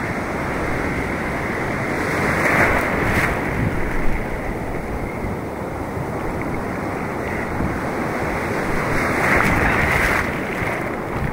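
Heavy ocean surf roars continuously with wind buffeting the microphone, strong waves swelling and crashing in powerful surges on a fishing shore.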